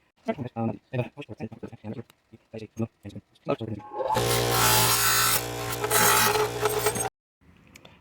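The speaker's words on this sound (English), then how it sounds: "buffing it on my buffing wheel for you guys" A revolver part, from an EAA Windicator .357 Magnum/.38 Special, is buffed on a buffing wheel, giving a loud steady whirring grind of about three seconds that cuts off abruptly, after a stretch of short tapping and scraping sounds.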